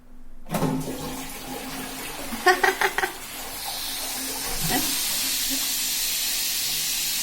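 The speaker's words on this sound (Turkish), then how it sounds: "Sifonu çek bakayım ne yapacak?" A toilet flushes at close range in a home bathroom, a sharp rush of water that swells into a steady, hissing refill lasting several seconds, with a few brief knocks partway through and no talk.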